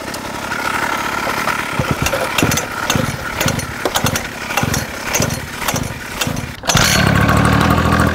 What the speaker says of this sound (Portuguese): Agora essa aqui é meio difícil de ligar.